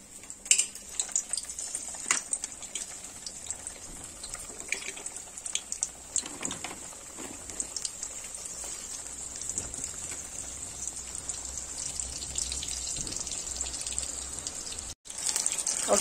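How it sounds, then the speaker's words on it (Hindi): Frozen Prasuma momos deep frying in hot oil, a steady crackling, hissing sizzle with scattered sharper pops, continuous and fairly close. "let's deep fry the momos"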